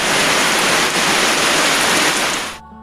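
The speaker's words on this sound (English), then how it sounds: "as the squalls came in off the ocean, the rain intensified" Heavy rain from Tropical Storm Idalia pours down at Garden City Beach, South Carolina, a loud, steady hiss of downpour that cuts off abruptly near the end.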